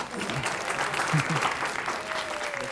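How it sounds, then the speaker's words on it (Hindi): Audience applause at a mushaira poetry recital, the Jashn-e-Ghalib 2021 gathering, steady clapping from the crowd with a voice speaking over it. "अकेले अजय जैन साहब हमारे दोस्त ताली बजा रहे हैं, आप लोग भी सीख लीजिए इनसे"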